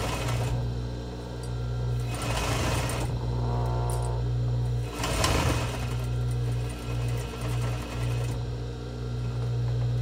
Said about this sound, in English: we're going to sew a 1/2 inch in from the edge all the way across